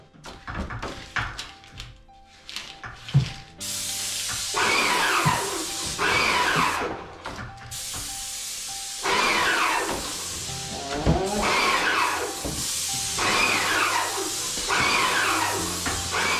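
Long bursts of spray painting on a construction job, a broad steady hiss running several seconds at a time with short gaps and a few knocks between them, close and fairly loud.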